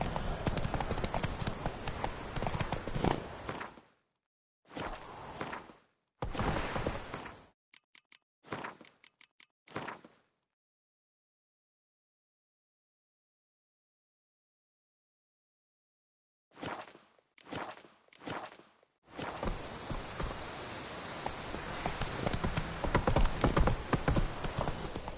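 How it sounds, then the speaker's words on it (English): Horse hooves in The Witcher 3 clip-clop in a steady trotting rhythm, loud and close, broken by a long stretch of silence before resuming, with a voice speaking over parts of it. "Whoa there, Roach"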